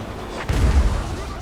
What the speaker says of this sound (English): The Hell Cannon's firing.